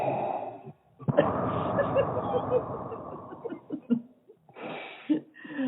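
Heavy, drawn-out breathing sounds close up, with gasping inhales and raspy exhales that seem exaggerated, as if a voice is imitating panting.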